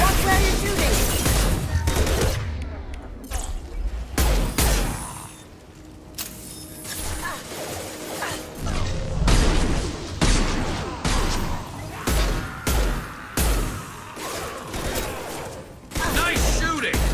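Sustained gunfire in the Mass Effect 2 video game, with rapid bursts and rattling automatic fire that swell and drop in loud clusters, broken by brief lulls and mixed with other battle sounds.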